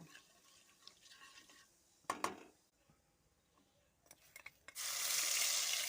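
Cumin and asafoetida go into hot oil left over from frying paneer for matar paneer. A few quiet clinks and stirring noises come first, then a loud, steady sizzle bursts in near the end.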